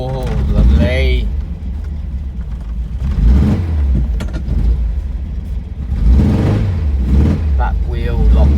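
A VW Squareback's engine running after a cold start following three months parked, a loud low rumble that surges and revs in waves with nearby voices talking over it.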